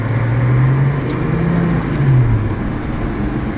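A Nissan 350Z drives along with a steady, continuous engine and road drone, fairly close and loud throughout, with no voices.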